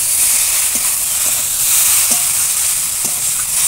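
Fried potatoes go into a hot pan of cooked-down spice masala, giving a loud, steady sizzle and hiss throughout, with a few faint stirring knocks and no talk.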